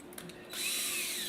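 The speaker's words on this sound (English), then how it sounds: "I'm going to drill down with that." Power drill boring a pilot hole for a screw into a wooden board, starting abruptly after a quiet moment and running as a steady, loud high-pitched whine to the end.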